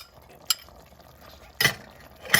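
Diced onions drop into a pan for a Libyan stew of liver and lungs, each addition setting off a short, bright burst of sizzling. Between the bursts the pan is quiet and low.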